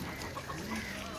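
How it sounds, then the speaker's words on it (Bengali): A chicken clucks briefly in a household setting, a few short soft calls over a steady background hum. "মুরগি"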